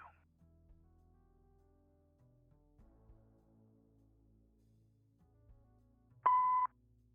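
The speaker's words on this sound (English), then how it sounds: "if you leave your details after the beep, I'll get back to you" An answering machine in the video game Kathy Rain 2 gives one loud, steady electronic beep lasting about half a second, sounding after a quiet stretch with faint low background tones.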